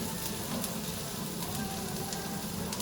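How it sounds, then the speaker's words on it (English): Garlic sears in a pan for paella, a steady, close, even sizzle with a crackling hiss throughout and no voices. "now that I have my garlic nicely searing"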